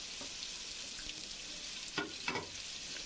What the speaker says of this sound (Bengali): পেঁয়াজ কুচি দিয়ে ভালোভাবে একটু ভেজে নেব।